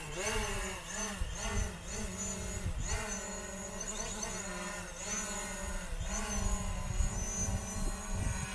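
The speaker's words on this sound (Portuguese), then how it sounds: "tá voando um pouquinho com o drone para mostrar a vocês tudo que a gente tá fazendo aqui de caminho" Camera drone flying over a hiking trail on the Lycian Way in Turkey, a steady close buzzing whine with harmonic bands that rise and fall slightly in pitch, continuous throughout with wind-like rumble underneath and no talk.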